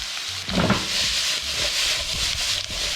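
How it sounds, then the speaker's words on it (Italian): Peppers and mixed vegetables browning in a frying pan give a steady broadband sizzle, with scraping stirs and a few soft knocks near the start, loud and continuous without speech. "Io lo lascio rosolare ancora perché mi piace il sapore che gli dà un po' di sbruciacchiato alle verdure."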